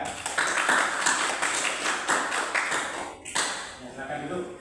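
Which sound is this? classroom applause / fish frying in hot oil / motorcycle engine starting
classroom applause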